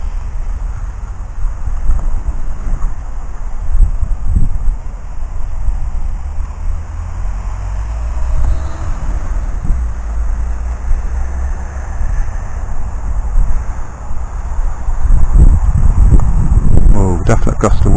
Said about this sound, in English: Oh, definite gust of wind.